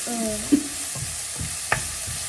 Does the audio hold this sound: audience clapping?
no